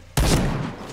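A single sharp, loud burst of gunfire in a shooting video game as a headshot lands. The blast is followed by a short decaying echo, with no voices.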